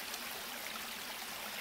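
A mountain stream flows steadily past plants, a constant hiss of rushing water heard up close and evenly, with no voices.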